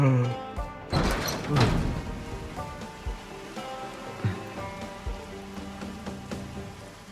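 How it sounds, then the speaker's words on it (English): Rain falls steadily on surfaces nearby, a constant patter with scattered louder drops and a couple of thumps, and people briefly talk over it. "it's raining."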